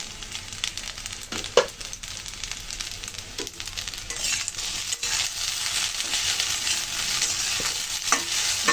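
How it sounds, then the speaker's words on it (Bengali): Pasta stirred and mixed in a hot frying pan, with steady scraping and turning strokes over a continuous sizzle, growing slightly busier toward the end. "সব কিছু সুন্দর করে কিন্তু মিশিয়ে নিলাম।"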